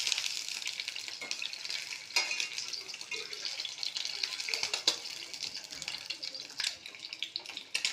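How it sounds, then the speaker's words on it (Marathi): Eggs fry in a little oil in a pan, giving a continuous crackling sizzle with sharper spatters throughout, close and fairly steady. "मी पॅनमध्ये थोडंसं तेल टाकलं आहे आणि त्या तेलावर हे अंडे थोडेसे फ्राय करणार आहे"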